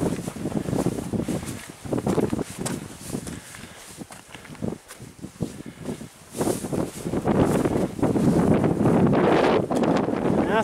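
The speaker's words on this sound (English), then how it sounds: "And it's very windy and cold up here." Strong, cold wind on a rocky mountain hiking trail buffets the microphone in loud roaring gusts, easing briefly midway before surging again, with occasional footsteps and rustling beneath.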